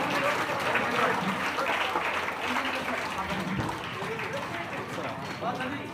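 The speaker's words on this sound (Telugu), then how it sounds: "మీ చప్పట్లు కొనసాగుతూనే ఉండాలి" An audience applauds a state top-ranked student at a merit test award ceremony, with dense continuous clapping that runs under a speaking voice and softens slightly toward the end.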